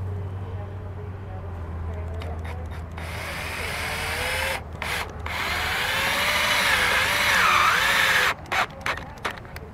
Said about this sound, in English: So now we're just gonna put the rest of our screws in.